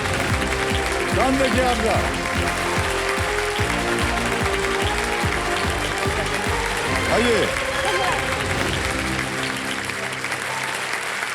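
Enthusiastic studio audience applause on the quiz show Kaun Banega Crorepati (KBC), Season 15, steady dense clapping filling the whole clip under background music while a host speaks over it.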